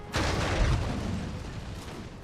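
Artillery fire in Napoleon: Total War, a sharp onset followed by a loud, dense rumble of cannon blasts that slowly decays into a sustained battlefield roar with no talk.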